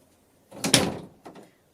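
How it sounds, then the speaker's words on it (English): A cat pushes through a cat door indoors, making a soft flap-and-clatter of the swinging door followed by a second, lighter knock as it settles; quiet and close, with no talking. "my cat was just going to the cat door"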